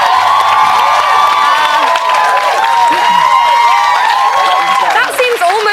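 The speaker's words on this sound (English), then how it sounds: "I think a round of applause, not for effort," A studio audience on Celebrity Big Brother claps and cheers, loud and sustained, with whoops and shouts layered over the applause.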